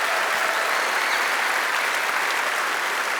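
A large convention audience at PAX West claps in a dense, sustained burst of applause, loud and continuous with no pauses.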